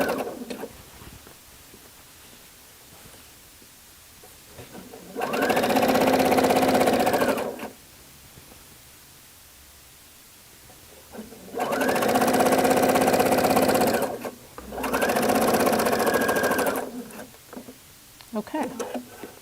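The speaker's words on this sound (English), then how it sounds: "Okay, so I'm going to go ahead and sew down the rest of the front." A sewing machine stitches down the front of a garment in three close, steady runs of a few seconds each, separated by quieter pauses where a person speaks.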